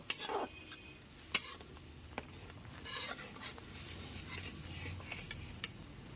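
A spice paste for coconut chana dal is stirred and fried in a pan: sparse, quiet scrapes and clinks of a spoon against metal over a low background, with a few sharper knocks spaced irregularly.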